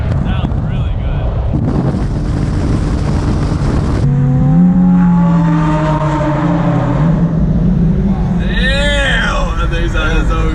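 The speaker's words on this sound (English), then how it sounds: "The Gallardo sounds really good." A Lamborghini Gallardo V10 revs and accelerates hard at close range, its engine note rising and sweeping upward in pitch over buffeting wind noise, with a second rising whine near the end.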